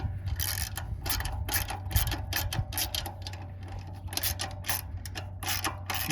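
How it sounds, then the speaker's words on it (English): A 10 mm ratchet wrench tightens the screw on a carbon fiber exhaust tip of a Toyota RAV, giving a steady, close run of rapid clicking pawl strokes in quick bursts against a low background hum. "Take a 10 millimeter and start screwing it in, securing it."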